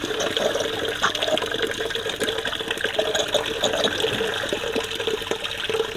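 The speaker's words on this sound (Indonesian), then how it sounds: "ini bunyi-bunyi kayak gini karena airnya tadi curah airnya rendah" Water pours steadily into a tank of silkworms (sludge worms), a continuous rushing and gurgling from a tap that holds at an even level throughout.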